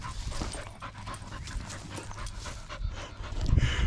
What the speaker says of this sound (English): It's become a dog that digs in a hole video.